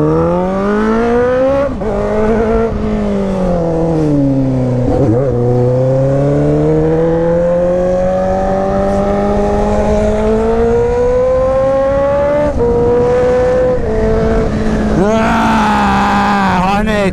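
A Honda Hornet motorcycle fitted with an Atalla 2.5-inch stainless steel exhaust is ridden, its loud, close engine climbing and falling through gear changes with sharp throttle blips and rising revs.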